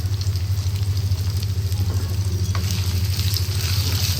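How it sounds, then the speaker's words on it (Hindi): Chicken pieces fry on a high flame in a pan for chilli chicken. A loud, continuous sizzle sits over a steady low burner hum, with light stirring noises throughout. "मैंने फिर इसको एकदम से सारा शामिल किया और इसको मैंने फ्राई कर दिया"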